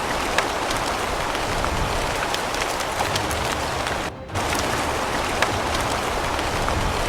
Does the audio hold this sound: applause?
no